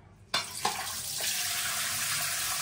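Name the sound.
water draining through holes in a container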